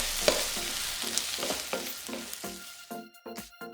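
Onion and fish cake are stirred in a pan after the heat is turned off, a series of soft rhythmic scraping strokes with light residual sizzle, close and alone.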